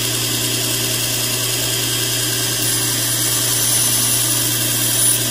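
A surface grinder trues up a straightened knife blade, giving a steady, loud mechanical whine and hum from the wheel that holds evenly throughout with no speech.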